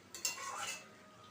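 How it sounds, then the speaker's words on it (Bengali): A spoon stirs soft, cooked ridge gourd (nenua) curry with poppy seeds in a pan as it simmers in its own released juices. There is one brief, close scrape-and-clatter, then a quiet hiss. "এবারে নেড়ে চেড়ে নিচ্ছি।"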